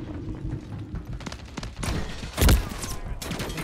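SMG fire in Modern Warfare 3, scattered gunshot bursts and thuds of a close-range firefight with a loud impact near the middle, game sounds throughout.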